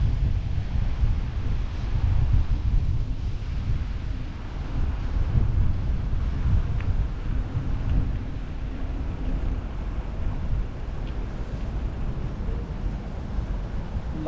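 Strong wind and waves by the water in Toronto, Canada: a constant loud low rumble of wind buffeting and surf that rolls on without a break, with no speech.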